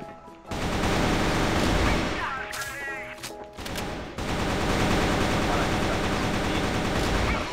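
Bursts of rapid automatic gunfire in the online shooter CrossFire, loud and close, with a brief lull of scattered shots and ricochets before the firing resumes dense and continuous.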